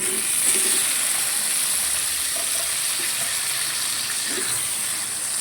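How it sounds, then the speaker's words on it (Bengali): Chicken pieces go into a pan of melted butter and garlic and sizzle with a steady, even hiss throughout, close and moderate with faint clinks, no talking. "এবার আমি চিকেনের পিসগুলো এতে দিয়ে দেবো।"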